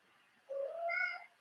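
A domestic cat lets out a single drawn-out meow, clear and close, rising then fading over about a second in an otherwise quiet room.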